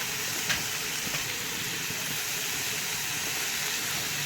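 Eggplant pieces tipped into a hot pan already frying potatoes, then sizzling in oil with a steady, dense hiss that stays loud and close throughout.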